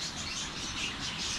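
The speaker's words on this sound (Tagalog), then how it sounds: "Ang uwak po do." Crows calling around a rural hut in the provinces, a faint, steady wash of harsh bird calls heard at a distance, with no one talking.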